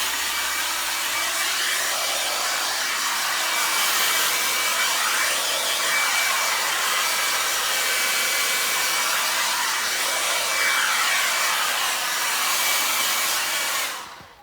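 A hair dryer blows steadily and loudly over freshly applied leather dye on an upcycled leather item, a continuous close whoosh that cuts off at the very end, with no talking.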